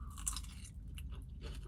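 Someone crunches through crispy garlic parmesan chicken wings from Wingstop inside a car, close brittle bites and chewing over a low steady rumble of the cabin.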